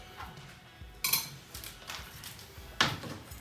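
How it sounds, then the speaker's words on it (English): Slabs of unsalted butter drop into a bowl with a few soft thuds and light clinks, sparse and fairly quiet, with no speech. "Get your butter into a bowl."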